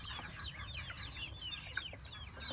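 Several chickens cluck and chirp in a busy overlapping chorus, moderately close, over a low rumbling background.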